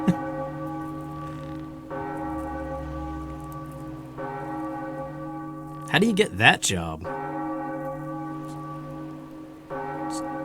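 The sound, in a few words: church bell ringing in Zelda: Wind Waker HD video game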